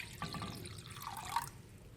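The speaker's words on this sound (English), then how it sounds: "Now fresh bowl and add cold water, means room temperature water, not cold." Room-temperature water is poured into a bowl at a home chemistry bench, a short trickling splash with a few drips lasting under two seconds, close and fairly quiet.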